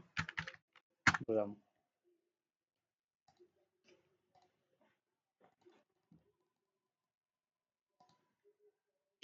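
Sparse, faint computer-keyboard taps come one at a time after a brief burst of speech at the start.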